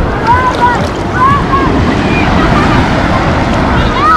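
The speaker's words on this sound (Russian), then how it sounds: "Волны приближаются." Waves roll steadily onto a pebble beach at the Black Sea resort of Lazarevskoye, a continuous loud wash of surf blended with gusty wind buffeting the microphone, with faint high chirps drifting over the top.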